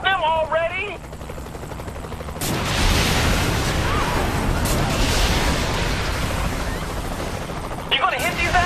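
Dense, sustained gunfire and explosive chaos in the video game Saints Row The Third, a loud continuous barrage that follows a short stretch of speech.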